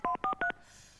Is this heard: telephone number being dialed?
yes